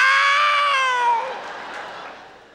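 A comedian's voice mimics cats caterwauling at night, a long wavering, yowling wail that slides downward and fades, with a crowd reacting faintly underneath.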